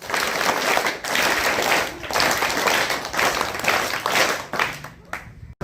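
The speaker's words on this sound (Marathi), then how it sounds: "तिच्यासाठी टाळ्या वाजवा" Applause for a girl student at a school guidance event with teachers, students and parents: sustained clapping from a gathered crowd, loud and continuous for several seconds before fading out.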